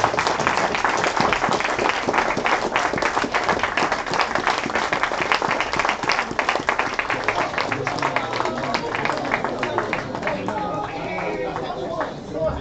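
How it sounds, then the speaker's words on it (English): A church congregation at a holy convocation claps in a continuous, dense round of applause, loud and close, with scattered voices and chatter mixed in before the clapping thins toward the end. "Everybody please rise and give this brother a round of applause."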